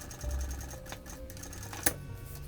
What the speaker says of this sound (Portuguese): Vou costurar todo o vivo na minha peça.